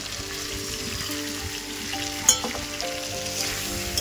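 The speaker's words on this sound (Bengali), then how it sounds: "এবার ভালো করে একটু কষিয়ে নেব।" Ginger paste and chopped tomato sautéing in a pan for a fish curry, a continuous close sizzle with light stirring and one sharp clink of the utensil midway.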